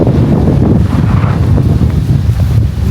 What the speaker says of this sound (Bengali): কি পরিমাণে বাতাস হচ্ছে, এত সুন্দর বাতাস হচ্ছে